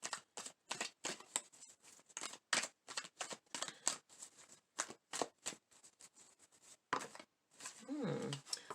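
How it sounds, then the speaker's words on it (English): Rapid bursts of crisp rustling, tarot cards being shuffled over and over with brief pauses, and a short creaky squeak from a chair near the end. "Sorry about this squeaking in my chair."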